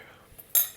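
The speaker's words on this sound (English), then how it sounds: "we'll give that a good stir in and leave that to simmer" A utensil scrapes and clinks against a pan while ragù with Pinot Grigio and beef stock is stirred, a soft brief rustle ending in one sharp close metallic clink.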